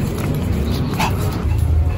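A small Pomeranian dog gives short yips and whimpers close by, a brief burst of excited, clingy vocalising with faint voices in the background.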